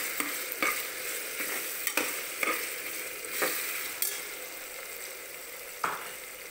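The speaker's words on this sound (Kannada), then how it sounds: "ಟೊಮ್ಯಾಟೊನು ಚೆನ್ನಾಗಿ ಬಾಡಿಸ್ಕೋಬೇಕು." Tomatoes sautéing in an oil-slicked pan for veg pulao, a steady close sizzle broken by repeated sharp scrapes and clinks of a spoon stirring every second or so, with no talking.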